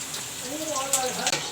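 Green chili and onion frying in a pan, a steady close sizzle with soft crackles and brief stirring scrapes, with a voice speaking over it.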